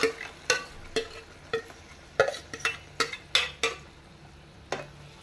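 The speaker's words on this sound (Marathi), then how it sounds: "ते आतां घालता हांव कढाईन. तेल तापलेलें आसा. सो हे घालून घेता हांव." Chicken masala ingredients tipped into hot oil in a kadhai, heard as a quiet sizzle with a run of sharp clinks and scrapes from stirring against the pan, spaced irregularly across the span.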